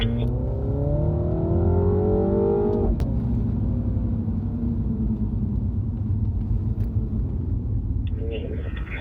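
A MINI John Cooper Works accelerates out of a corner on a track, its engine rising in pitch for a few seconds and then settling into a loud, steady rumble up close.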